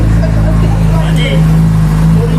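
A loud engine idles and revs with a steady low drone and rising, throaty tones, close by and continuous.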